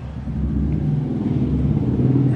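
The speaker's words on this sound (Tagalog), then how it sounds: "if you hear something noisy here on my reaction video, that is the sounds of tricycle, motorcycle outside" Motor traffic of tricycles and motorcycles passing on a highway outside, heard as a steady loud low rumble of engines throughout with no clear individual pass-by.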